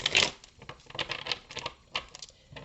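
Tarot cards are shuffled at close range in soft, rapid flurries of riffling and patting, faint and alone with no voices.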